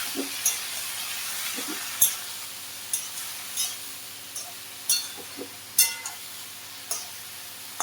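Vegetables sizzle in a hot pan of oil alongside prawns, a steady hiss broken by scattered pops, clicks and the scrape of stirring, close and clear with no talking.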